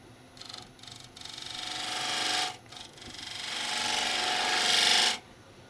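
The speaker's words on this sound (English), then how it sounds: "we'll just do that with a spindle gouge" A spindle gouge cuts a cypress hollow form spinning on a wood lathe, giving long, loud, hissing cuts that swell and stop, with short bursts at the start and a brief gap midway.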